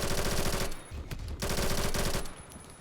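Automatic rifle fire in the Roblox shooter Phantom Forces: two loud, dense bursts of rapid shots, each lasting under a second, separated by a brief gap and trailing off into echo.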